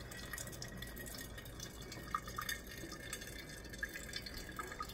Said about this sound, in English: It immediately starts brewing